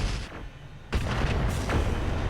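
Long Tom artillery guns firing in the mech game RogueTech: a heavy boom just before one second followed by another blast, loud and close over rumbling background with no talk.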